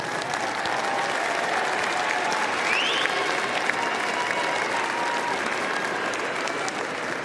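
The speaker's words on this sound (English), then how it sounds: "give your family and friends a round of applause" A large crowd applauds at a university commencement ceremony, a dense, even wash of clapping that holds steady and fills the hall for several seconds with little variation.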